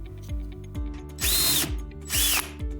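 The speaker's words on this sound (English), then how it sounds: "Drill a hole." A power drill bores through the bottom of an aluminum can in two short, loud bursts, with clicking mechanical rattles and low motor rumble between them.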